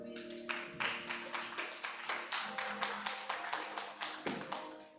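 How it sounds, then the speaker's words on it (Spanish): A church congregation claps in steady rhythmic unison, a fast even beat of sharp hand claps carried over a sustained organ or keyboard chord, filling the room at moderate volume. "Dale un aplauso al Señor."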